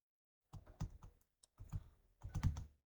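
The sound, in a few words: typing on a computer keyboard in Microsoft Word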